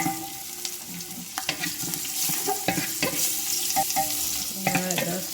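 Garlic sizzles in hot oil in a pot while a spoon stirs and scrapes, with soft clinks and steady frying hiss throughout, close and fairly quiet, cooking for Jamaican curry goat.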